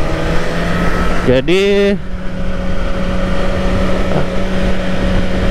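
A Kawasaki Ninja ZX-4RR motorcycle with an auto blipper, its engine droning steadily and briefly rising in a quick rev during a gear change, under a voice speaking close by.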